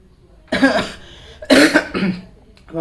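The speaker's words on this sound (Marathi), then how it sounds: "खोकला लागला" A few harsh coughs in separate bursts, close and fairly loud, with a short pause between each.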